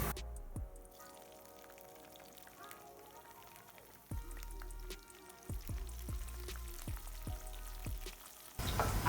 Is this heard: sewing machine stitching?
no